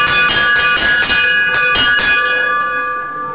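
Temple bell rung by hand at Shravan Monday worship, a rapid series of bright metallic strikes with long ringing overtones, loud and close, slowing and fading toward the end.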